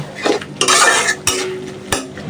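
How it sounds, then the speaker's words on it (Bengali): Spice masala frying in a pan for a Bangladeshi curry, stirred with a utensil in a few brisk scraping strokes, with sharp clinks against the pan over a soft sizzle, close and alone. "মশলাটা ভালোভাবে কষায় নিই"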